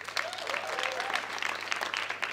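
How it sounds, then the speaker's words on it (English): Guests at the ACT Nyoloha Gala Showcase applaud in a room, producing a dense, continuous patter of clapping at moderate loudness, with a faint whistle-like tone briefly rising above it. "give yourselves a round of applause"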